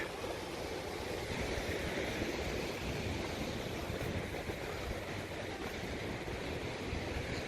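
Ocean surf breaking against a rocky shore in the Azores, a steady, full roar of crashing water with a windy hiss that holds constant throughout, with no voices.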